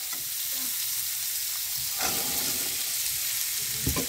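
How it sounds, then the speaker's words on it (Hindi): Carrots and peas frying in a pan and being stirred, a steady close sizzle with scraping stirring strokes every second or so. "इसे भी अच्छे से भूनेंगे, और इसमें हम अपनी मटर भी डाल देंगे।"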